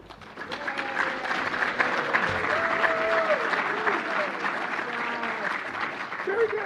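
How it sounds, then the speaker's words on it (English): A crowd claps steadily throughout, with a voice speaking over the applause. "let's give our presenter a big, warm welcome applause"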